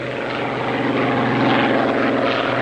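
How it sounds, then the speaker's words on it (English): Supercharged 27-litre Rolls-Royce Merlin V12 of a Spitfire fighter plane roaring loud and steady, a dense continuous engine drone with no break. "What made it such a sensation was its fabulous engine, 27 litres of supercharged Rolls-Royce V12, the Merlin."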